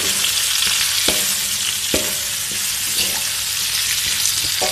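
Bruised lemongrass and lime leaves dropped into a hot frying pan, with a loud, steady sizzle broken by a few sharp clinks and scrapes of a utensil, close and without talk.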